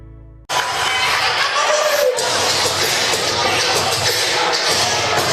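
Crowd at a high school basketball game in the Gilbert B. Miller Center at Hedgesville, West Virginia, during a dance team show: loud continuous hubbub of chatter and shuffling after a brief quiet start, with a short dip midway.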